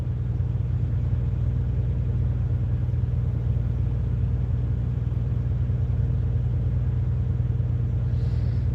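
Inside the cab of a Peterbilt 579 truck, the engine gives off a continuous low, even rumble, steady and fairly loud throughout with no voices.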